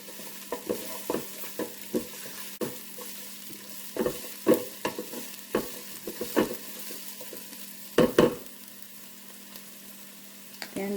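Vegetables and serrano chili fry and sizzle in a Ninja Speedi, with a steady hiss broken by repeated clattering stirs and scrapes; close and moderately loud, no talking.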